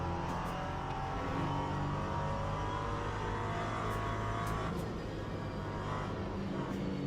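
A race car's engine drones steadily on the Fuji circuit in a racing video game, a constant, fairly quiet hum that holds an even pitch throughout.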